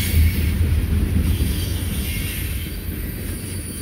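A Norfolk Southern freight train passing near Chattanooga with NS 4000 as a distributed power unit, a steady heavy rumble of rolling wagons with faint wheel noise, close and continuous.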